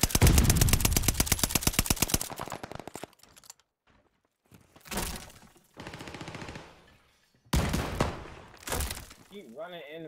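Double-barrel shotgun blasts in the shooter game Call of Duty: Vanguard: a dense run of rapid loud gunfire at the start, then several separate heavy bursts with gaps between them, and a brief voice-like warble near the end.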